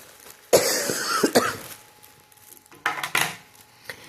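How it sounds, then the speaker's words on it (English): A few harsh coughs and throat-clearing bursts, close by, in two clusters separated by a quiet pause. "Excuse my coughing"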